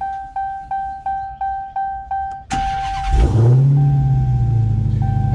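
A 2019 Dodge Challenger Hellcat cranks and fires up after a series of chimes, then settles into a loud, deep, steady idle rumble, with no voices.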